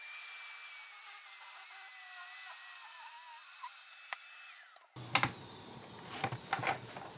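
A hand saw rasps through wood, cutting the diagonal line of a kanawa-tsugi scarf joint in carpentry work. A steady high whine gives way to a run of close, rhythmic sawing strokes.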